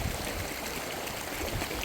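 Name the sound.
waterfall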